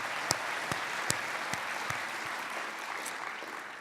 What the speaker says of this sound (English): Can we please have a massive round of applause for them and their efforts?